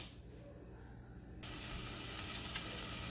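Butter melting in a hot pan for butter chicken (murgh makhani) gives a steady, close sizzle that turns louder and brighter partway through, with a continuous frying hiss and no talking.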